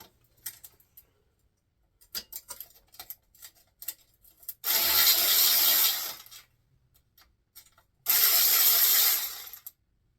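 A power ratchet working bolts loose on a Chevy 350 engine teardown: scattered clicks and clacks, then two loud, sustained bursts of buzzing motor whir, each lasting over a second, up close in a quiet garage.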